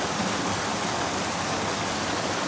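Creek water rushing over rocks, a dense, constant broadband roar that fills the whole stretch without pause or voices.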